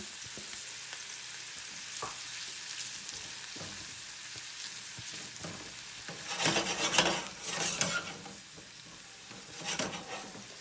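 Diced ham frying for an omelette in a pan, a low steady sizzle that swells into louder bursts of crackling and stirring scrapes toward the end, near and without speech.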